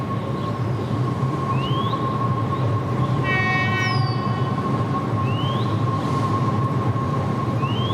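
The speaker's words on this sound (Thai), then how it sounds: "ขบวนธรรมดาที่284ค่ะถนนราชปรารภ" Ordinary passenger train no. 284 passing close by near Phaya Thai, Thailand: a loud, steady rumble of rolling wheels with a few high wheel squeals and brief tonal horn-like whines, continuous throughout with no speech.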